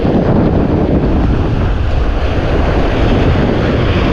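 Surf crashing on Longboat Key beach after a hurricane, a dense continuous roar of waves heavily mixed with buffeting wind noise on the microphone.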